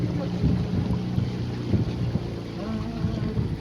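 A boat moves along a river in the evening, its low engine drone and water churn steady and fairly close, with faint indistinct voices underneath and wind buffeting the microphone.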